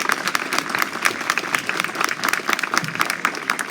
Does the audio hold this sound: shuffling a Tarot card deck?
no